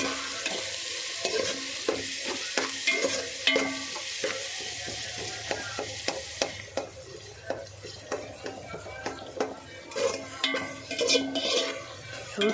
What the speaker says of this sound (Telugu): ఉల్లిపాయ బాగా ఏగితే బాగుంటుంది ఫ్రెండ్స్. బ్రౌనిష్ కలర్ వచ్చేదాకా వేపుదాం.